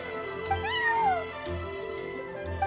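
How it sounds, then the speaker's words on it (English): A cat meows in the video game Genshin Impact, a single drawn-out rising and falling call, close and clear over a soft low background hum. "I'm sorry, that's my neighbor's cat."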